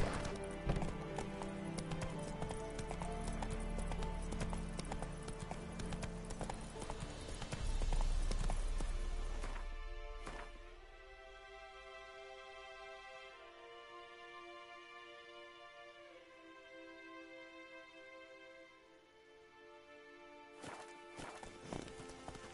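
Roach the horse gallops in a Witcher video game, her hooves pounding in quick, loud clip-clop for about ten seconds before the beat fades to a softer, quieter trot under a sustained tonal backdrop.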